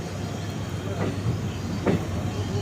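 Okha-Bhavnagar Terminus Express 19210 passenger train rolling out from Hapa station on the Jamnagar-Rajkot run: a steady low rumble with two soft clacks of wheels over rail joints, heard from on board.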